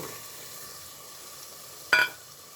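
Tomatoes dropped into spice paste frying in a pan for a layer chicken and potato curry: a low steady sizzle, then a brief louder hiss burst as they hit the oil, fairly faint overall.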